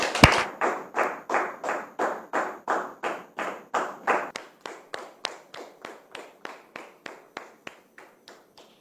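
Audience applause in a studio: a regular series of sharp claps, steady and evenly spaced, gradually getting quieter; no voices.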